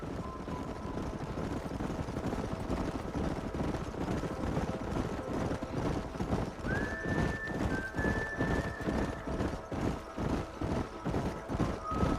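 Many hooves clatter in a fast, rhythmic gallop throughout, with a horse whinnying briefly and a steady low rumble beneath, from the video game Red Dead Redemption.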